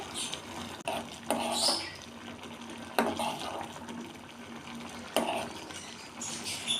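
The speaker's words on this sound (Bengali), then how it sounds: "এই সুন্দরভাবে নাড়তে থাকছি" Pink rice kheer is stirred in a pot, with soft scraping, thick bubbling and a few sharp clicks of the spoon against the metal, quiet and close.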